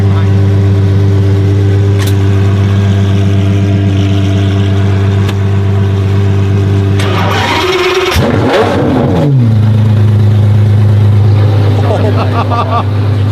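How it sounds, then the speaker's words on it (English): Naturally aspirated V12 car engine with a sequential gearbox, idling with a deep steady hum before a loud rev rises and drops back to idle, close by. "And it has a naturally aspirated V12."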